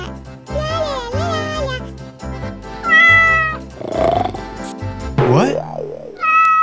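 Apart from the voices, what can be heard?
cat meowing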